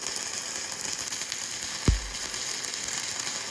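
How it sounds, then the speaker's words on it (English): A pocket-size mini welder crackles and sizzles in a steady, close buzz that runs on without a break, with one brief sharp pop partway through and no talk. "I'm not even moving, it's welding itself."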